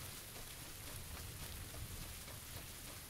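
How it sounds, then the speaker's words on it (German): Steady rain hisses in the PUBG battle royale game on Xbox One X, a dense even patter that stays faint and unbroken throughout. "Und es regnet."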